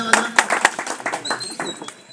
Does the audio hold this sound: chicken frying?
no